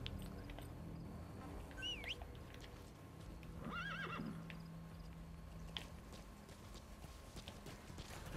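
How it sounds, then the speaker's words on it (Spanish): A horse in the Metal Gear Solid V video game gives a single clear whinny midway, rising and falling in pitch, over a steady game ambience with faint background noise and no talk. "vamos a llamar al caballito"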